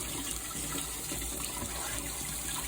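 Water poured into thick gravy in a pan, a steady close-up splashing and trickling wash that runs continuously without pause.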